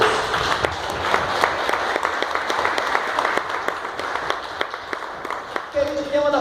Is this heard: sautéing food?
no